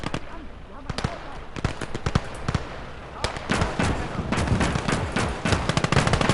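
Rapid 20mm anti-tank cannon fire in the WWII game Call to Arms: Gates of Hell, Eastern Front, sharp repeated bursts amid a dense, loud battlefield clamour of other gunfire and explosions.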